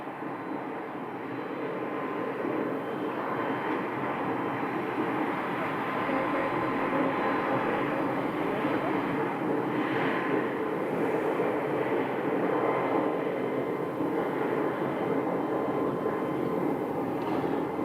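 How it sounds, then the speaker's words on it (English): A small Piper airplane departs from Scottsdale airport, its engine a steady, broad drone held at moderate distance for the whole stretch, with no break in the sound. "And we do have one small aircraft departing. This is a, looks like a little Piper"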